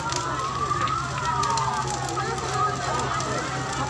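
A house fire in Takengon, Central Aceh, roars and crackles as a steady, dense rush close by, with sirens and a busy crowd audible beneath it.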